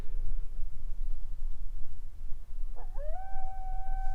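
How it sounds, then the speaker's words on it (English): A wolf-like howl at night in the woods, a single long rising then sustained wail that starts partway through, moderately distant, over a steady low background rumble. "this sounds like a wolf howling"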